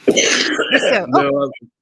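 A harsh, raspy cough or throat-clearing burst, close and loud, trailing into a brief strained vocal sound.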